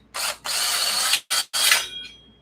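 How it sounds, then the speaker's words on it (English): A handheld power drill whirring close up on a Huffy bicycle part in several bursts, high-pitched and loud, stopping and restarting between short pauses. "we got to drill this too"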